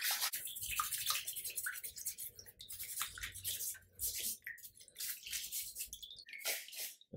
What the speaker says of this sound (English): all we now need to do is just scrub off the parts and clean them up in there